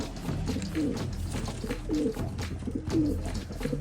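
Pigeons cooing outdoors in autumn, three soft, low coos spaced about a second apart over a dense, noisy background of rustling and faint ambient sound.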